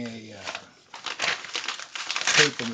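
A paper label held on with hot glue adhesive being peeled away, giving close, irregular bursts of crinkling and tearing that grow louder toward the end, with a voice talking over it.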